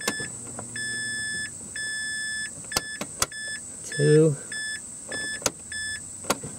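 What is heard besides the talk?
car fuel pump priming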